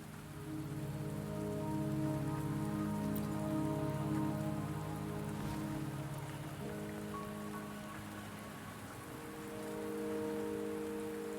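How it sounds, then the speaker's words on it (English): Steady rain falling in the video game Wuthering Waves, a continuous dense patter on surfaces mixed with a low droning game score, no voices. "Don't worry, the rain won't last much longer."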